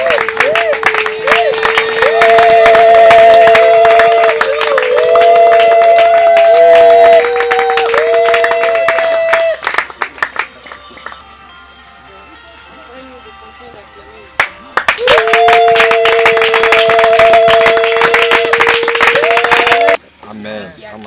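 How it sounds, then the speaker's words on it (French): A church congregation claps rhythmically through a loud stretch of worship music and voices, drops to a quieter lull in the middle, then swells again with clapping and singing. "nous acclamons pour la gloire de Dieu"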